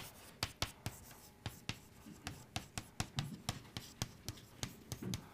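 Chalk or marker writing an equation on a classroom board: a steady series of short, sharp tapping strokes, about three per second, close and fairly quiet, with no talking.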